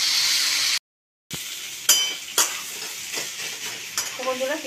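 Prawns, figs and fried potato sizzle loudly in a pan as a utensil stirs them, with a brief gap and then metallic clinks and scrapes over the frying hiss.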